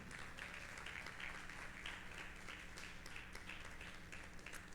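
Steady applause from a large church congregation at a Sunday service, dense continuous clapping filling the room at even loudness throughout.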